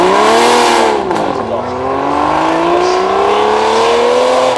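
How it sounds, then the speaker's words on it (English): A Lamborghini V12 supercar engine revs loudly and close at a supercar weekend gathering, its pitch dipping briefly then climbing in a steady sustained rise with a rich harmonic roar throughout. "V12, sounding glorious now."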